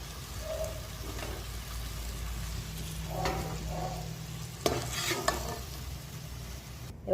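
Cashews sizzle in ghee in a pan at close range, with a spoon stirring and scraping now and then, and a louder clink or two as the nuts are lifted out.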